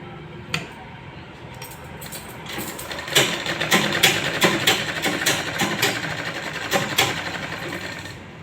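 A sewing machine stitching the lining of a blouse runs in short bursts, with a clicking, rattling mechanism and uneven pauses between stitching runs, close up.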